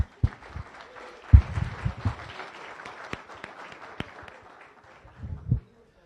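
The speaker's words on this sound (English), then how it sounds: "if we could get a round of applause for all of our visitors and guests" Applause from a Rotary Club meeting audience in Las Vegas, a moderate scattered clapping spread through a room with a few louder thumps and bumps, tapering off toward the end.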